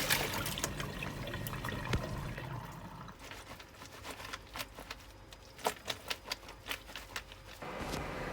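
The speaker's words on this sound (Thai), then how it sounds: "เราก็จะล้าง จนน้ำใสก็ใช้ได้ค่ะ" Sliced potatoes for homemade potato chips are rinsed in water until it runs clear. Close splashing and sloshing of water with clicky, rattling handling sounds and rhythmic dribbles near the end, with no speech.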